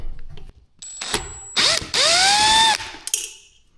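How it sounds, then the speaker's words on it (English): A power driver backing screws out of a ceiling fan, with a short close whirring burst that rises in pitch, plus clicks and small mechanical rattles around it. "I started off by taking these screws off this side."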